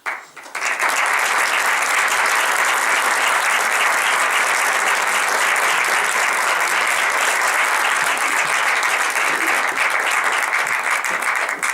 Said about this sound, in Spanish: ese aplauso que a lo mejor piensan en darme a mí, se lo ruego que sea para ellos